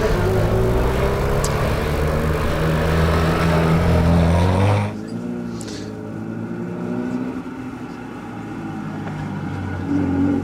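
Gavin Molden's Datsun races up a hillclimb course, a loud close engine roar that suddenly drops away midway to a fainter, more distant drone.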